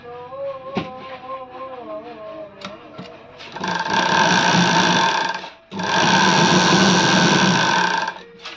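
A sewing machine runs along the side seam of a readymade sleeveless kurti in two strong, close bursts separated by a brief stop. Light handling sounds and small clicks come before the stitching starts.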